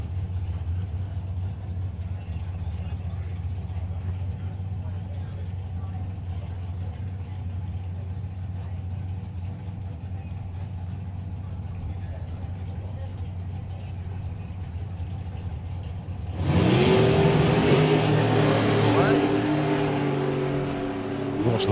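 At a drag racing event, a Super Comp dragster and a 1969 Camaro idle and rumble with a steady low engine drone before a sudden loud surge as engines rev hard and launch; an announcer talks over the cars.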